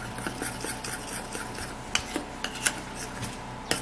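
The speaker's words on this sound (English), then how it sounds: "we'll then be putting the potato juice plus the starch into our dark spot treatment, and then we stir it up very well" Potato juice and starch being stirred into a dark spot treatment mixture, giving soft scraping and clinking of a utensil against a bowl with a few sharper taps, close and quiet, no talk.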